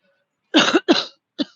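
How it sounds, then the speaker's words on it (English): Three sharp coughs close by on a winter walk outdoors in Prague, two in quick succession and then a shorter one after a pause, with no talking. "sorry for coughing"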